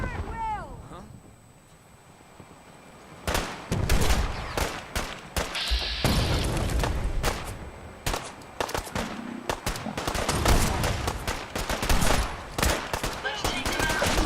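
Intense Fallout 4 firefight: a quiet opening, then rapid loud shots and automatic bursts crack in dense succession, close and punchy, with voices calling out during the fight.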